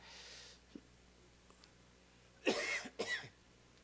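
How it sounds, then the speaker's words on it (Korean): Two quick, close coughs near the end, following a few faint clicks and soft rustling in an otherwise quiet room during a church worship service sermon. "기침이 자꾸 나가."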